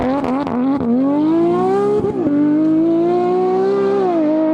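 A Porsche 718 Cayman GT4 RS exhaust revving hard, a loud rising engine note with a couple of brief blips before it settles into a sustained, climbing roar.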